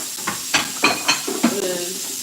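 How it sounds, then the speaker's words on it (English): Steak sizzling in a frying pan with a steady hiss, broken by a few sharp clinks and scrapes of stirring; a faint voice murmurs briefly. "It is sizzling."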